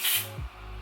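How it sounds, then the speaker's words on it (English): A short, breathy hiss from a spray bottle used on a wig, close by, fading after a fraction of a second into a low steady hum. "I'm gonna take a little bit more spray"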